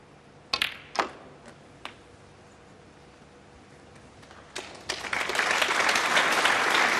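A snooker crowd at the 2018 Champion of Champions, O'Sullivan against Higgins, bursts into loud, sustained applause after a few sharp clicks of snooker balls.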